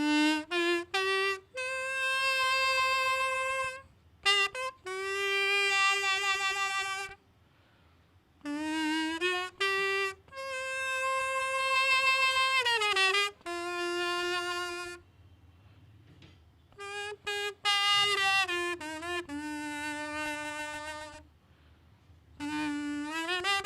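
A kazoo, taped and holed, is played to imitate a harmonica: buzzy reedy tones in sustained phrases and quick chordal bursts, separated by short pauses, close and fairly loud with nothing else in the background.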